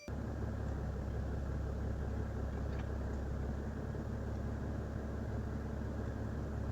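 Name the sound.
Mercedes-Benz Sprinter van engine started and idling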